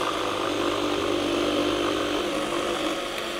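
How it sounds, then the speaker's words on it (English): A Milwaukee power saw cuts steadily with its blower function switched on, a continuous loud motor whine holding level throughout with no talking. "let's go ahead and make another cut and we're going to turn this blower function on."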